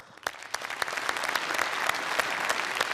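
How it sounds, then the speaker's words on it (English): Audience applause at the Startup Awards 2016, a dense wash of many hands clapping that swells in quickly and holds steady and fairly loud throughout, with no talking over it. "So one great and big applause for you guys as well."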